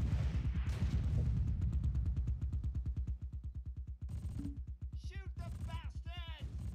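Rapid machine-gun fire in a Close Combat war game, long fast bursts of evenly spaced shots, followed by sharper single reports and chirping effects, with voices speaking in between.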